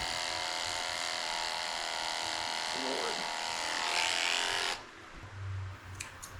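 Electric dog grooming clippers fitted with a very short blade buzz steadily and close up while trimming near a senior Shih Tzu's eyes, then cut off abruptly near the end, leaving faint low hum and handling noise.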